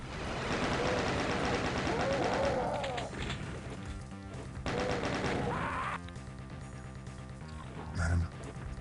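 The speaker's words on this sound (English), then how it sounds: "I've got the chain gun" Rapid chain gun fire in Doom II, bursts of clattering shots layered with game music and monster noises, loud in stretches then pausing, with a short thump near the end.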